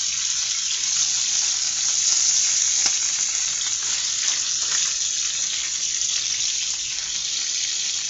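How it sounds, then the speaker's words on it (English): Bacon frying in a pan, a dense, steady hiss and crackle of sizzling fat that continues without pause, close and moderately loud, with no talk. "This bacon smells good."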